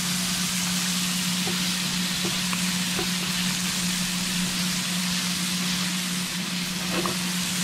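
Shrimp sizzle steadily in a frying pan after being flipped, a loud, even hiss of frying with a few faint taps, and no talk over it.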